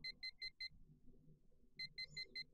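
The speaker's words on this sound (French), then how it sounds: "La sonnerie du réveil s'est mise à résonner dans mon appartement étroit." An electronic alarm clock in the Last Window video game rings in two bursts of four rapid, high, identical beeps separated by a short quiet gap, clean and fairly faint over a soft room hum.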